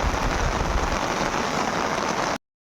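Heavy rain drums on an umbrella in a misty rural spot, a loud, close, continuous patter that stops abruptly near the end.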